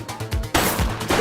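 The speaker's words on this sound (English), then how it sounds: "Shots fired!" Gunfire in a police game, a quick burst of loud shots from close by, with the sharp cracks running together in a short rapid string.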